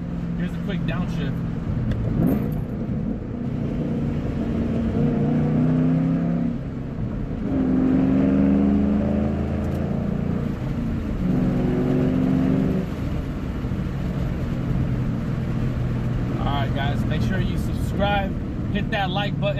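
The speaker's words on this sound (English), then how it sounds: "Here's a quick downshift." A 2008 Ford Mustang GT with the 4.6L three-valve V8 makes a quick downshift, its engine blipping and rumbling loudly and close for much of the clip, with someone talking over the engine throughout.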